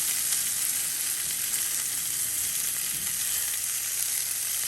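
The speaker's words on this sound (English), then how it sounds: "go ahead and put the bacon in these" Bacon frying inside crumpet rings on a hot surface, a loud, dense, unbroken sizzle and crackle held close throughout, with no talking.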